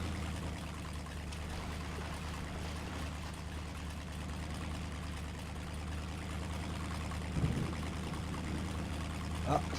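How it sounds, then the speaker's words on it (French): A crawler truck in the game MudRunner rolls through water on a muddy goat trail, giving a steady engine drone with trickling water and a brief splash near the end. "quand ta roue elle tombe dans l'eau, Oui, ça oui, fait idem, idem. T'as plus de grosse projection d'eau."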